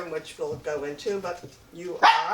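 A dog named Sadie, being dog-sat, gives a sharp bark or yip near the end, cutting in over lively conversation among several women that runs throughout.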